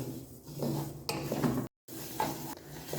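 A spoon stirs flax seeds dry-roasting in a pan over low heat, giving a soft, steady scraping with a faint sizzle, broken by a brief dropout partway through.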